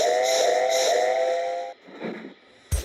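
Henry the steam engine sounds a loud, steady whistle for under two seconds as he sets off pulling his train, followed by softer hissing and puffing and a sharp burst of steam at the end.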